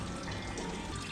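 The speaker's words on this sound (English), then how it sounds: "But it's coming out orange. Make sure it's draining quick enough." Orange coolant draining from a Ford 5.4L 3V engine's large radiator, a steady broadband splashing pour that runs continuously and fairly quietly throughout, with no talking.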